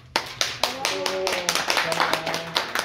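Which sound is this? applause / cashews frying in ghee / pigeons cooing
applause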